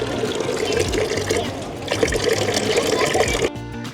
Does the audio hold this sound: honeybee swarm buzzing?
no